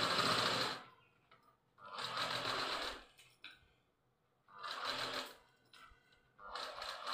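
A domestic sewing machine running in short bursts while stitching round the neck of a baby's zero-size frock, three or four close whirring runs with quiet gaps between, no voices.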